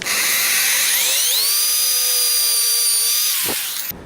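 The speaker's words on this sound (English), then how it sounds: "I'm just going to drill a hole here in the middle" A power drill whines at high pitch, rising as it bites into exotic wood and holding steady for a few seconds, then stops abruptly; close and loud.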